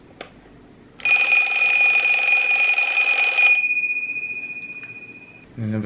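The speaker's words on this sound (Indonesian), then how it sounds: "Satu lagi aku pasang alarm ku." A loud, shrill alarm clock rings steadily for about two and a half seconds, then trails off. Quieter background noise surrounds it.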